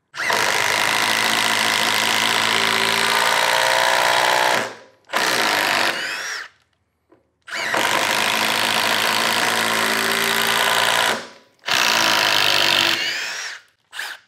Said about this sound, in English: Really works well on this impact driver.